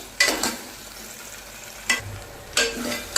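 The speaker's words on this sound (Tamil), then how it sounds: "தக்காளி நல்லா வதங்கிடுச்சுங்க" Tomatoes and onions sauté in a pan for a black chickpea curry, with a soft steady sizzle broken by three brief scraping bursts of stirring.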